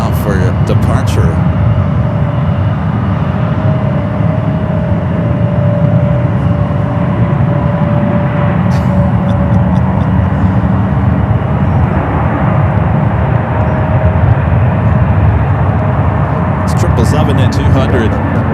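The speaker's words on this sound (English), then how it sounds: "I also have a United 777 heading out for departure" A United 777 jet departs San Francisco International Airport with a sustained low engine roar and a faint steady whine, holding constant throughout while a person talks over it.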